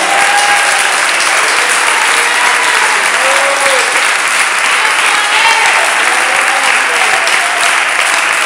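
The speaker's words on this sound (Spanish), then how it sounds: "Dele esas palmas al Señor en esta hora" A church congregation applauding in praise, dense continuous clapping filling the room at a loud, even level from start to finish, with no voices breaking through.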